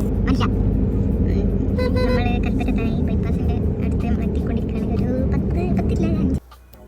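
A car rolls into a parking area with a steady low engine rumble and tyre noise, as a voice talks over it throughout. The rumble cuts off sharply near the end.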